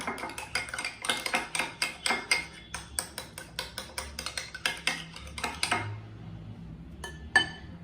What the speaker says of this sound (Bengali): এর সাথে একটু দিয়ে দিলাম, লবণ দিয়ে দিলাম, দিয়ে এটা আমি ভালো করে ফেটিয়ে নিচ্ছি।